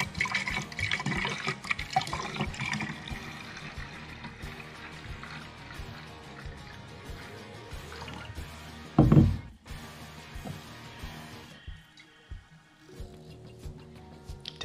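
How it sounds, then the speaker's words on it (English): Red wine splashes and gurgles as it is poured into a glass decanter, a steady trickling stream with one sharp clunk partway through, then quieter drips at close range. "you just want the wine to splash around so that it can absorb some oxygen."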